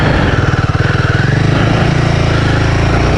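A Royal Enfield Himalayan 450 motorcycle climbs uphill at low revs, its single-cylinder engine chugging in a steady, close, loud thump with no voices over it.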